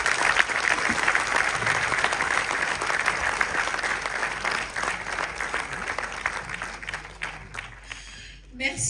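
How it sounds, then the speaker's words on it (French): Audience applauding warmly for jury members presented on stage at the Dakar Séries festival, a dense, steady clatter of many hands that runs several seconds before thinning out near the end. "Merci de les applaudir chaleureusement."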